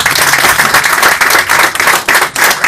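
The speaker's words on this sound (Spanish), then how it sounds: "Un aplauso." A church congregation breaks into loud, sustained applause at a funeral-themed sermon, dense clapping filling the whole stretch close to the recorder.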